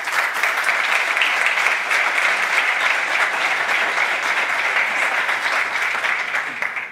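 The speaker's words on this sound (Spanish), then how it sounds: "para quen pido tamén un agarimoso aplauso" Warm applause from an audience at a Galician church presentation of its annual economic and activities report in Lugo, a steady dense wash of many hands clapping that holds loud and even for the whole stretch, with no voices over it.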